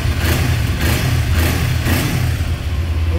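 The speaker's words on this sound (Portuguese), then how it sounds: "Antes, vamos ligar a Ninja 400, porque a Ninja 400 é o mesmo esquema da Z650." A Kawasaki Ninja 400 with a 180-degree parallel-twin engine runs close and loud, a steady low throb with a pulsing beat and slight swells in revs.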